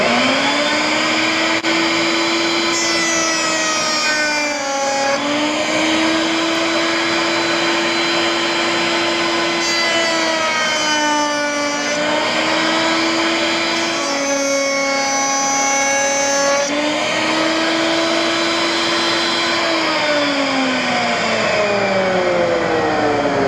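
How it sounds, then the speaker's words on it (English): A router fitted with a rabbeting bit runs on a router table with dust collection going, a steady loud whine that rises and dips as the cut loads and unloads, with no talk. "we'll just run a piece around there with the dust collection going"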